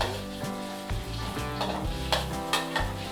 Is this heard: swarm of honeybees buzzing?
no